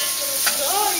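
Pork fat (salo) sizzling and frying in a pot for Uzbek plov, with a steady close hiss and a brief stir, and no talking.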